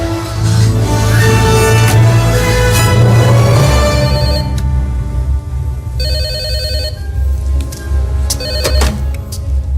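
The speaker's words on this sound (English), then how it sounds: "Grant, Mr. Hammond, the phones are working." A telephone rings loudly in a Jurassic Park film scene, with repeated bright electronic trills over a dense low musical score that fades partway through, leaving the rings standing out clearly.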